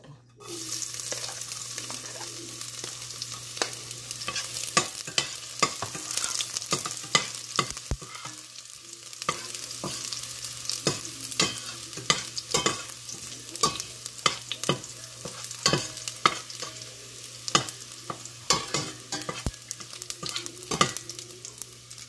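Garlic sizzles in hot oil in a pan while a utensil stirs and scrapes it, a continuous close frying hiss punctuated by frequent clacks of the spoon against the pan.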